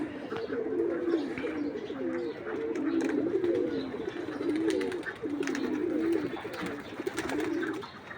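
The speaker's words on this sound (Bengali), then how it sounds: "সবাই ডাকাডাকি করতেছে। কবুতর আরো আছে এই যে এই গাছের উপরে।" Pigeons perched up in a tree coo repeatedly in overlapping rolling calls, moderately close, over a steady outdoor background hiss.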